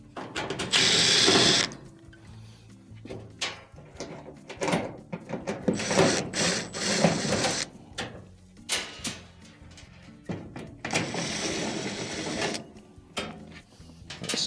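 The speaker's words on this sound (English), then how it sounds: "there are 3 Phillips screws that will need to be removed." A screwdriver or power driver removes Phillips screws from the top of an LG dryer, heard as close bursts of ratcheting, whirring mechanical noise separated by short pauses.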